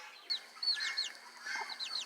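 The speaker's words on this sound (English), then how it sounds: "the other little coop where we have some little chickens at" Young chickens in a small coop give a steady stream of thin, high chirps and peeps, close and moderately loud, with no one talking.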